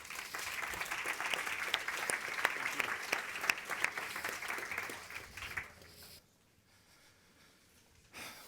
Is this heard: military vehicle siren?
no